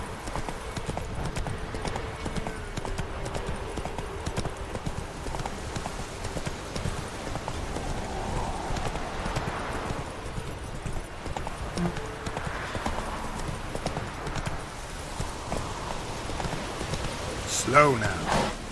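Hooves of the horse Roach in The Witcher 3 pound out a rapid, steady galloping clip-clop for the whole stretch, close and prominent, with a rain-like patter beneath and a brief whinny near the end.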